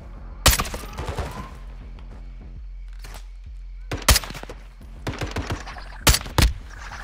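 Gunfire in Modern Warfare II, heard from third person: sharp single shots and short bursts rise from a steady low rumble, clustered near the start, middle and end, with faint voices in between.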